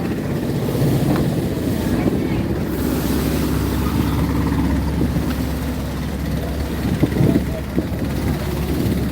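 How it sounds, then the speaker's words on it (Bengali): Steady rush of wind and water from a passenger launch cruising mid-river, with a trawler running alongside; loud, continuous churning wash and wind buffeting the microphone throughout, no talk. "ট্রলারটি দেখুন কীভাবে লঞ্চকে ধরার চেষ্টা করছে"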